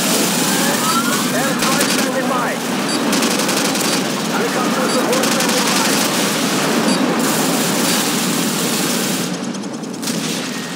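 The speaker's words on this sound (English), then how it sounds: "Friendly airstrike on the way!" Call of Duty 4: Modern Warfare airstrike heard as a sustained, loud barrage of rapid gunfire and explosive blasts rolling continuously throughout, with dense battle noise and game voices mixed in.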